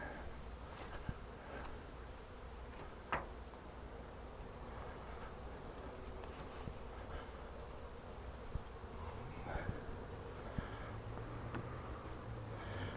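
Honeybees swarming and buzzing around a hive as a fume board drives them off the honey supers, a continuous close, even hum of many wings with occasional sharper taps and knocks.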